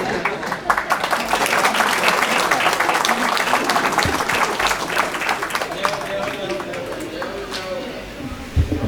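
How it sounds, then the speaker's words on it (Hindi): An audience at a Hindi patriotic poetry recital applauds to welcome a poet on stage, with dense, loud, continuous clapping that fills the hall for about nine seconds and tapers slightly at the end. "एक बार पूरा सदन भरपूर तालियों के साथ आमंत्रित करिए"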